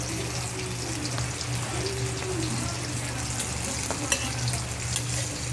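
Radish and string beans sauté in a pan without oil, a soft steady sizzle with occasional stirring scrapes and clinks, fairly faint and close.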